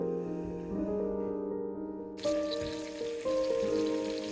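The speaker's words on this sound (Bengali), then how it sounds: "শুধু হলুদ লবণ দিয়ে মাখায় এটা ভাজতেছি ক্রিস্পি করে ভাজবো" Small puti fish, coated only in turmeric and salt, fry in hot oil as a steady crackling hiss that swells midway. Sustained tonal notes run alongside it and no one speaks.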